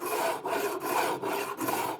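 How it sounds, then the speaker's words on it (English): A hand rasp files a wooden board in long, even strokes, about five rough scraping passes with brief pauses between them, close and fairly loud with no talking. "I'm using the length of the rasp to straighten out the board, the corner"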